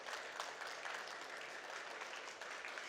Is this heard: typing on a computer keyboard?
no